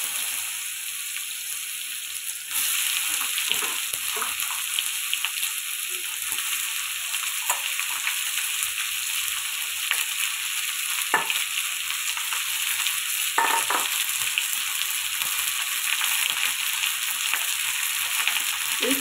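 Onions frying in hot oil for a fish-head ghonto, a steady bright sizzle that thickens after the first few seconds and runs on for a long stretch, close and loud, with occasional soft clinks of stirring and no talking.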